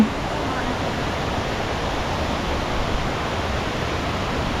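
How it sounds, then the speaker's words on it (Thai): Lan Sadej waterfall at Doi Inthanon pours in a steady, loud, broadband rush of falling water, constant and close with no breaks throughout. "เราเดินมาถึงน้ำตกลานเสด็จนะครับ"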